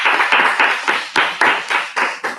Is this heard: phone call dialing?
no